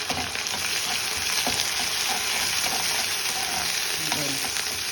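Onions, garlic and other ingredients for kara kuzhambu sauté in a pan, giving a close, even sizzling hiss with faint stirring scrapes and small crackles, with no talking.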